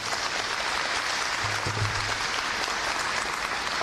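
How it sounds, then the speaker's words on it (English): Steady applause from a crowd at an Illinois governor's bill-signing event, a continuous wash of clapping at moderate volume with a faint low hum partway through. "I think those two champions deserve their own round of applause,"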